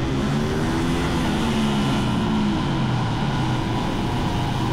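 Electric Grom motorcycle with a QS138 motor and 72V battery spinning up on a dyno, a loud steady whine with rising and falling tonal bands, continuous throughout with no talk.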